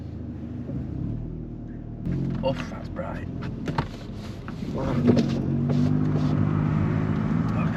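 A Cupra Ateca with its gasoline particulate filter deleted cruises with the exhaust valves closed, giving a low, steady rumble beneath wind noise while people talk inside the car.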